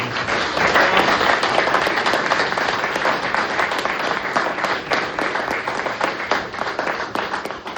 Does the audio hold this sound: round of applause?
yes